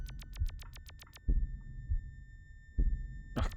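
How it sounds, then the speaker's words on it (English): In the video game Yume 2kki, a deep heartbeat thumps slowly, two heavy low beats roughly a second and a half apart, beneath a steady high electronic tone after a rapid series of clicking blips. "Just listen to the heartbeat."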